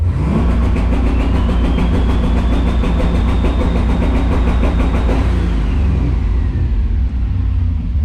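A turbocharged LS engine held on a two-step limiter roars loudly with a rapid stuttering pulse and rising pitch as boost builds, then the revs fall away after about five seconds.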